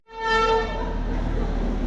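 Horn of the small Darjeeling toy train, a loud sustained harmonic toot that starts abruptly and holds steady close by, with a low rumble beneath.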